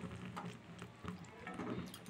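Water pours into a cooking pot in a soft, faint, steady trickle and splash close by, with no one talking.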